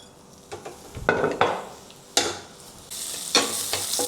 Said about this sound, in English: So I have put some oil into the pan, and now I'm going to saute all these items.